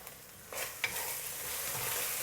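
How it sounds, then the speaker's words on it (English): Garlic and oyster sauce fry in a pan for steamed garlic prawns, giving a steady, close sizzle with a few soft scrapes as they are stirred, no voices. "Now if you fry the oyster sauce, it will become more fragrant."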